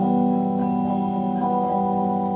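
An electric guitar on its middle pickup, played through an amp with a vintage clean tone: sustained ringing chords rich in harmonics, close and steady, with no talking.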